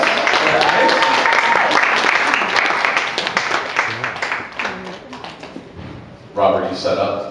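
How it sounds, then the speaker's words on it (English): Wedding reception guests at Disney's Yacht Club Resort clap in a scattered round of applause beneath overlapping talk, fading out toward the end before a brief burst of sound. "Give Alex a round of applause"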